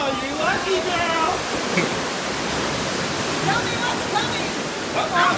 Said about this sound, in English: Okay, 3 streams of water.